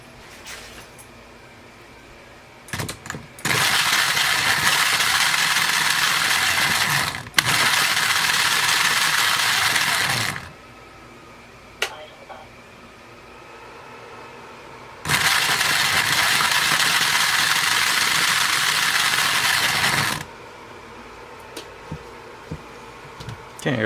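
A mostly 3D-printed 1lb combat robot's weapon spun up in two long bursts of loud whirring buzz, each starting and stopping abruptly, separated by quieter stretches with a few clicks and rattles.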